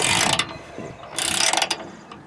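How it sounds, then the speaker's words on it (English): A 19mm ratchet clicks in quick bursts while turning a bolt during front differential bushing work on a Nissan Titan, two close, crisp runs of rapid pawl clicking separated by brief pauses. "I'm going to use a 19mm ratchet"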